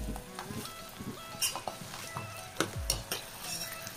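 Curry leaves crackle and sizzle in hot oil with flowers for a homemade hair oil, a close spitting fry with irregular sharp pops and spoon scrapes.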